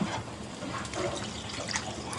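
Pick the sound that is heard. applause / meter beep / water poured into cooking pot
water poured into cooking pot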